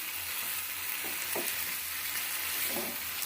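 Boiled small potatoes frying in spices over a low flame for aloo kosha, a steady close sizzle with a few soft scrapes of stirring, no voices.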